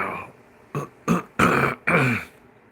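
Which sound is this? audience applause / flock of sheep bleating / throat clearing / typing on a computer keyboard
throat clearing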